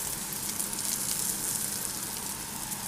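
Omelette frying in a pan, a steady, close hiss and sizzle with fine crackling that continues unbroken throughout.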